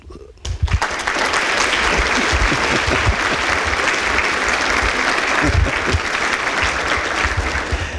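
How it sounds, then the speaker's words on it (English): Applause for parents and family members at a fire academy banquet, a sudden loud roar of many people clapping after a brief quiet start, sustained and dense for several seconds. "we give our parents and family members an applause"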